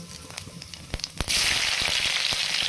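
Green chillies dropped into hot oil with cumin, a few pops and then a sudden loud burst of steady frying hiss with crackles, close up and without voices.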